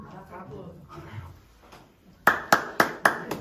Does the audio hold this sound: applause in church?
yes